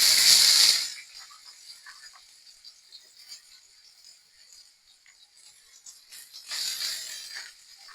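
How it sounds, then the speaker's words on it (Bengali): Potatoes drop into hot mustard oil with a loud burst of hissing sizzle, which fades to a faint crackle and then surges again near the end, with no talk. "তেল গরম হয়ে গিয়েছে, এখন আমি আলুগুলো দিয়ে দিব"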